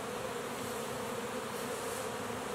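Russian honey bees buzz steadily on a hive frame, a dense, continuous close-up hum with no pauses and no voices.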